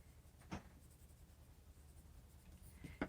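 A white Prismacolor colored pencil rubs in small circles on paper, giving a faint, soft, continuous scratching with a couple of slightly firmer strokes. No one talks.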